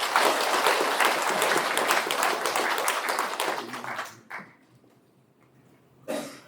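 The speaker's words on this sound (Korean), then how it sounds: "여러분들께서 격려의 박수 한번" An audience at a residents' briefing on the former Daehan textile mill site development applauds city development staff, a full steady round of clapping for about four seconds that cuts off abruptly, then a brief voice.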